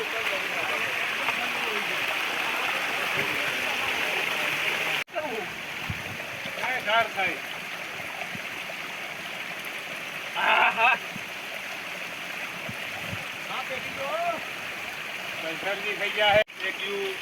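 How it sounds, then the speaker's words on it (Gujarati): A waterfall and flowing mountain stream on Girnar rush in a steady, close wash, with splashes and people talking throughout. "અવાજ આવે છે ધોધનો."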